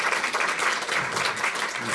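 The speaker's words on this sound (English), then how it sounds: "Let's give him a round of applause for having achieved." An academic audience applauds a presenter with steady, fairly loud clapping that runs evenly for a couple of seconds, no voices on top.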